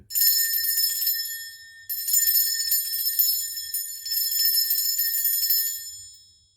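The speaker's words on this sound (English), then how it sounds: "I'm going to ring this bell." A hand bell is rung to cleanse a space, giving bright, shimmering metallic peals in three long sustained bursts that swell and taper, close and alone.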